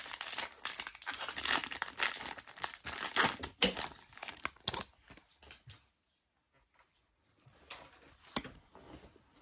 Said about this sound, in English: we're going to be opening up 3 packs